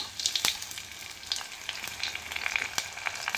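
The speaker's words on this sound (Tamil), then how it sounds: "இப்போ வந்து தாளிச்சிடலாம். பிரிஞ்சி இலை, சோம்பு, பட்டை, கிராம்பு, ஏலக்காய்," Bay leaf, fennel seeds, cinnamon, cloves and cardamom sputter in hot oil with a crackling sizzle and scattered sharp pops, plus faint stirring, heard up close without talk.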